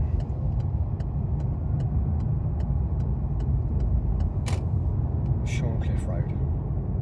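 A car on a driving test route takes a roundabout, its engine and road noise a steady low rumble throughout, with a few faint clicks and brief higher noises, under someone talking.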